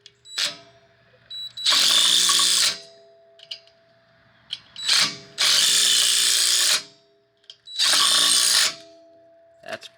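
An impact wrench removes the brake rotor screws on an FR-S in three loud, hammering bursts of about a second each, with short quiet gaps and faint clicks between them.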